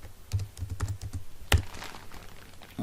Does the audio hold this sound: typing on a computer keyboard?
yes